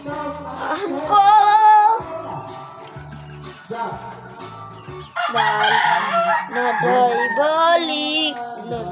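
A rooster crows several times in a row, loud and close, with drawn-out, wavering calls that break into clucking between the crows.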